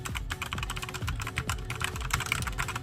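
Fast, steady typing on a Pauroty 60% wireless mechanical keyboard, its crisp key clicks close and clear in a quick rhythm with no talking.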